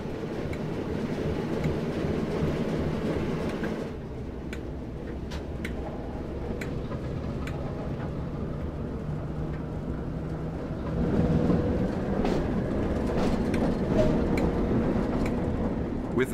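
A Class 08 diesel shunting locomotive starts to move in the Train Sim World 2 video game on the Tees Valley Line. The engine rumbles low and steady, rises after a brief dip, and faint ticking and clanks sit over it.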